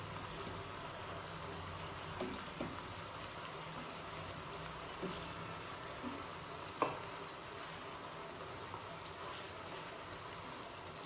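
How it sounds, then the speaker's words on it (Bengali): Pabda fish go into a boiling curry sauce, giving a quiet, steady bubbling simmer with a few soft clinks and splashes as pieces are added, no speech. "আর দেখো ঝোলটা ফুটে এসছে, এবার মাছগুলোকে দিয়ে দেবো এক এক করে।"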